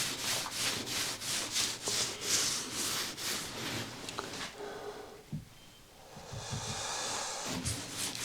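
A rhythmic series of rubbing strokes as wood dye finish is wiped by hand onto a wood sample, brisk and close at first, then fading to quieter, scattered scuffs.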